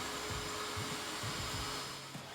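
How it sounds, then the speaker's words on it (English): A vacuum cleaner drones steadily and close during cutting out of a window in a Promaster camper van build, a continuous whooshing hum with faint low thumps and no voices. "We started cutting and used the vacuum cleaner"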